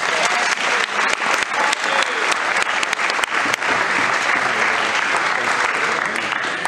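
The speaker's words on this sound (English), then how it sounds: "give Zachary Andrews a round of applause" Loud, sustained applause from a crowd honoring a football player at a team event, dense clapping filling the whole stretch with occasional whoops and a few louder individual claps.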